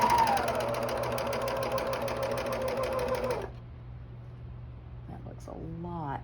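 A coverstitch sewing machine fitted with a binder attachment stitches in a fast, even whir for a few seconds and then stops, leaving quiet room noise and a brief voice at the end.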